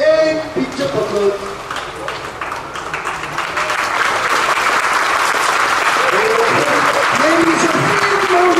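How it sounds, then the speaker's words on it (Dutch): A voice speaks briefly, then a crowd of parents breaks into loud, sustained applause that builds and holds steady, with some voices rising over the clapping, at a children's swimming diploma exam. "geef een heel groot applaus voor de papa's, mama's, iedereen wie er is"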